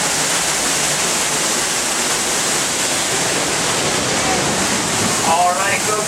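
Heard from behind a falling curtain of water, a waterfall roars as a loud, steady wash of noise with no break.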